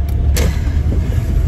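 Car engine and road noise from inside a moving car, a steady low rumble heard up close, with a brief faint click near the start.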